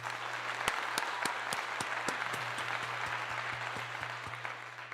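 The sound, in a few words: audience applause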